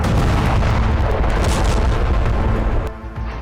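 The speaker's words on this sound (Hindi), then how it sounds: "एक के बाद एक 2 मिसाइलें दागी गई" Hypersonic missiles fired from Yemen toward Israel make a loud, continuous, booming roar that fades slightly near the end.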